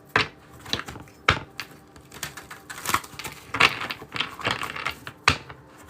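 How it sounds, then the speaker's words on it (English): Crisp riffling and snapping of cards being shuffled, a run of sharp ticks in uneven bursts, close and quiet with no talking. "Give this a good shuffle."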